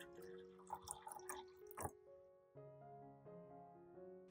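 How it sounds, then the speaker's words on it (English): Cold water is poured into a small glass jar, giving a faint burst of splashing and trickling that stops after a couple of seconds, with quiet tones continuing afterward. "and pour in some cold water."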